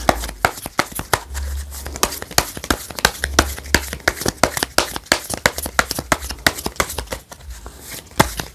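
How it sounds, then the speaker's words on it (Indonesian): Tarot cards are shuffled by hand close up, giving a rapid series of crisp slaps and riffles across the whole stretch, with no speech. "Kita saya shuffle dulu zodiak apa saja."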